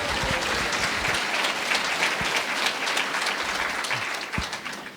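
A church congregation in Sucre, Bolivia applauds strongly, a dense, sustained roar of clapping with a few sharper individual claps standing out before it eases slightly at the end.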